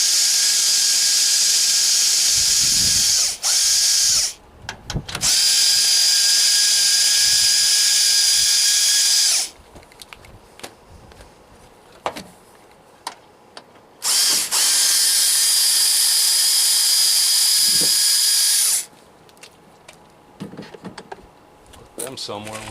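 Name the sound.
screw gun removing headlight screws on Ford F150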